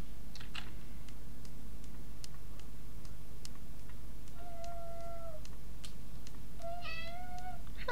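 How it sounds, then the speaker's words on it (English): A cat meows twice in The Sims 4, each call a short rising tone, over a quiet game scene with faint ticking and clicking. "That's my cat."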